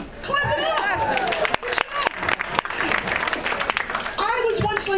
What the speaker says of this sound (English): The rest of you, clap for yourselves for being wholesome.